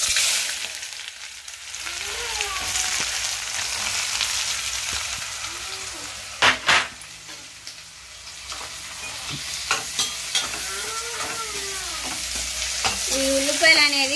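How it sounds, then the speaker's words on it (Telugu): Sliced onions and green chillies frying in well-heated oil for an onion biryani, with a continuous close sizzle, a few sharp stirring knocks, and faint distant chirps in the background. "ఆయిల్ అయితే బాగా వేడింది కదండి ఉల్లిపాయలు పచ్చిమిర్చి వేసేసుకున్నాం"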